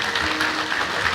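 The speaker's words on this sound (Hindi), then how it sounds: "आगे की पंक्तियां तभी दोहराऊंगी जब आप दोनों हाथ उठा के तालियां बजाएंगे।" Audience at a Hindi Day poetry recitation clapping with both hands raised, a brief dense burst of applause filling the short moment.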